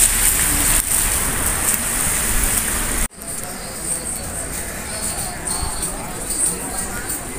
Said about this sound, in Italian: sta tornando la pioggia